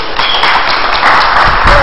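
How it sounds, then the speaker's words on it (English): Audience applause at an open mic night after sunset: a short burst of crowd clapping, fairly loud and sustained, rising slightly toward the end. "Can we have a hand of applause for Courtney Reardon?"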